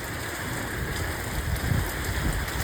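Torrential rain in a Corrèze thunderstorm, a loud continuous hiss and patter of drops hammering nearby surfaces, with a faint low rumble swelling briefly beneath the downpour.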